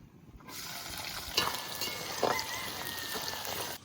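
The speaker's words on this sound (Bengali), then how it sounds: "তেলও গরম হয়ে গেছে, তেলের উপর দিয়ে দেবো গোটা গরম মশলা। এবার দিয়ে দেবো অল্প কোচানো পেঁয়াজ" Whole garam masala and lightly chopped onion hit hot oil, setting off a steady close sizzle with a couple of sharper crackling bursts as ingredients drop in, no voices over the frying.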